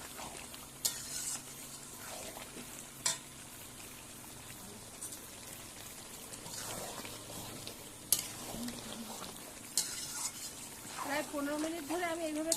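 Chicken coated in dried red chili paste sizzles in a pan while being stirred, with scraping strokes and a few knocks. A person talks intermittently over the cooking.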